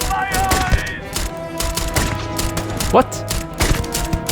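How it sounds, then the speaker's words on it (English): An enemy's minigun fires in Starfield as a loud stream of rapid mechanical shots with whirring and ratcheting over a steady game background, while a player speaks briefly. "dude's got like a minigun"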